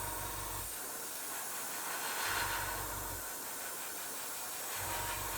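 Close, continuous aerosol hiss from a spray can coating a model kit engine, steady and unbroken, over a low hum that drops out and returns in slow intervals.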